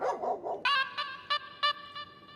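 A person in a Telugu film scene imitates a dog, giving a short string of yappy, bark-like yelps up close after a brief murmur. The tones are clear and spaced unevenly.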